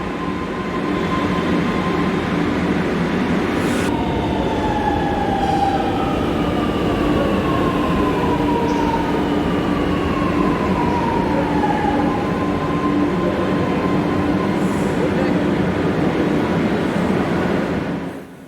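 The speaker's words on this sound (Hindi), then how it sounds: "देखिए ये मेट्रो आ गई है।" A Lucknow Metro train bound for Amausi Airport rolls into the platform with a steady, loud rumble and rising electric whine, continuous throughout before quieting at the end.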